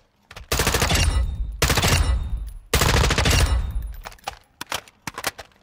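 In Call of Duty Modern Warfare II, a Knight's KS-1 (L403A1) conversion rifle fires three long, loud automatic bursts with short pauses between them, followed by a few scattered single shots and clicks.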